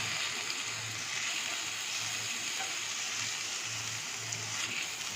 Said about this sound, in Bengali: চাল ডালটা ভাজা হয়ে গেছে